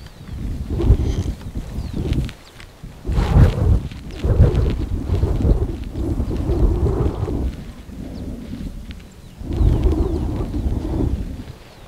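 Loud gusty bursts of wind and rumbling thunder sweep over an open potato field as a rainstorm approaches, surging in several heavy waves, close and buffeting, with no talk.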